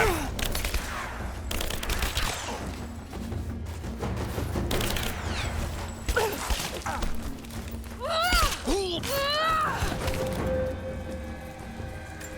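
Rise of the Tomb Raider combat: a dense, muffled wash of gunfire, impacts and crackling under a busy game soundscape, with whooshing and pitched effects toward the end; a faint voice is briefly heard.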